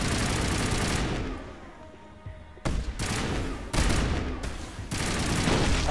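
Shotgun fire in the Mass Effect video game: loud, dense volleys of gunshots and blasts, with a brief lull before heavy firing resumes in sharp bursts.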